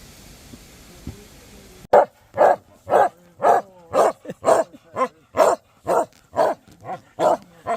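Hunting dogs out on a hunt bark loudly and close by, a regular run of sharp, evenly spaced barks about twice a second after a quiet outdoor stretch.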